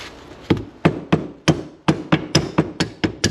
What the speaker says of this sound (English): I'm going to have to get a mallet